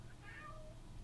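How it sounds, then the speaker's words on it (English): A cat lets out a single faint meow rising and falling in pitch over a quiet room background. "Cat's meowing."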